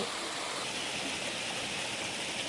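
A garden waterfall pours steadily, a dense, even rush of falling water that stays constant and fairly close throughout with no voices over it.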